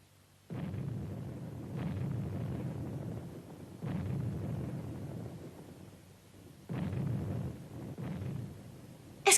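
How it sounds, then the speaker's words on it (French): Deep, rumbling cannon booms roll in one after another at irregular intervals, muffled and distant, each swelling and fading over a couple of seconds with no voices. "Est-ce que tu entends aussi les canons?"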